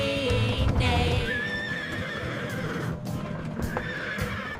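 Horses neigh and whinny repeatedly within a cheerful children's farm-bus song, with soft clip-clop hooves mixed into the upbeat musical backing.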